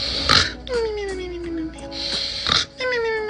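A voice mimics loud snoring, drawn-out nasal snorts with sliding pitch repeated several times, close and alone.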